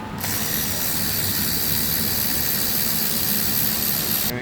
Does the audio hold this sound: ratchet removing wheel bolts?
yes